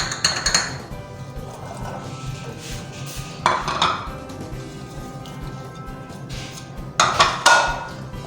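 Spoon clinking and scraping in a bowl while gram flour (besan) batter for kadhi pakora is mixed, with three bursts of metallic stirring clatter separated by quieter kitchen background.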